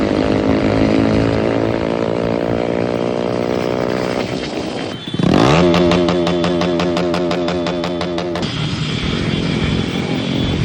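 A group of motorcycles rides past, their engines droning loudly and steadily before a sharp surge of revving with shifting pitch midway, then settling back into a sustained roar.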